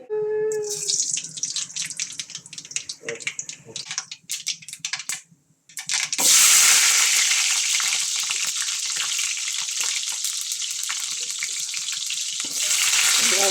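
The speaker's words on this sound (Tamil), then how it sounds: "எண்ணெய் ஊற்றியாச்சு கடுகு போடுவோம்" Mustard seeds dropped into hot oil burst into a loud, dense crackling sizzle after a short lull, preceded by running water and clatter.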